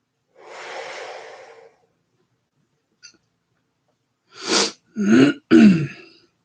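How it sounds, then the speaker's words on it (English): A person near the microphone gives a rough, breathy throat-clearing, then after a silence lets out three short, sharp coughs in quick succession. "Got to be careful with this cough."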